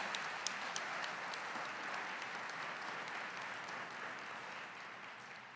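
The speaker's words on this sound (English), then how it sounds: "I think it's good to give them an applause." Audience at a church diocesan council applauds the staff, a steady, moderately distant wash of clapping from a large crowd that continues evenly and fades slightly at the end.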